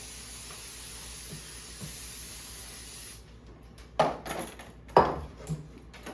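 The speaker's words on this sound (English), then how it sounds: "liberally spray it with oil." After a steady hiss, two short bursts of cooking oil spray sound close up into a cake pan, a second apart, with faint clatter from the pan.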